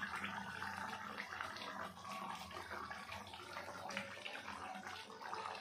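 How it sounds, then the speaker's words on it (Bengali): Sliced onions hit a hot pan for chicken do pyaza, giving a steady, fairly loud sizzle and hiss that carries on without pause. "এবার দিয়ে দেবো ফালি ফালি করে কেটে রাখা পেঁয়াজগুলো"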